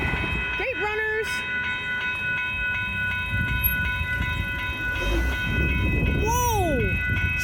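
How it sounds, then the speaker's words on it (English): GO commuter train 6627 rolls through the Lockhart Road crossing in Barrie, a continuous close rumble of wheels with steady crossing-bell tones and sweeping, pitch-bending tonal sounds over it. "Okay, the train's here already, sweet."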